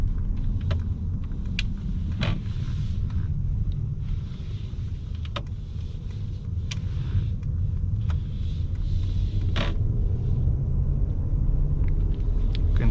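Mercedes-Maybach S580 with a V8 engine cruising in sport mode, giving a steady low cabin rumble with faint clicks from inside the car and no talking.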